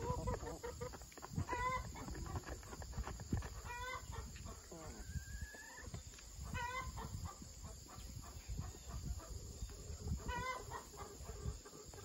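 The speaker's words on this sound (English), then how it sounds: "Our roosters crow all day long here on the pretend farm." Several roosters crow in turn over steady clucking and farmyard chatter, the calls ringing out at intervals, some near and some farther off.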